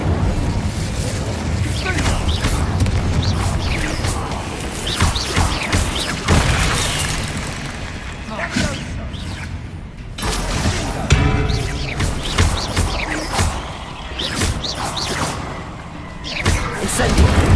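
Fire spells like Incendio cast in the video game Hogwarts Legacy, heard as a dense, loud run of bursting booms, crashes and thuds that keeps up without pause, amid busy combat effects.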